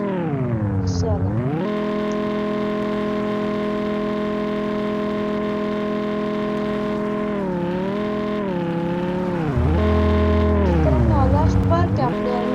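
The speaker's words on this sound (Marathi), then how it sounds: "चला बाहेर काढली सुपर कार." A supercar engine in a driving video game revs loudly and steadily, its pitch dipping and climbing through gear shifts, with a deeper roar near the end.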